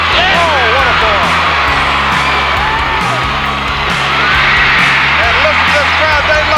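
A wrestling arena crowd roars and whoops continuously at a televised 1987 match, loud and dense throughout, with a commentator talking over the din.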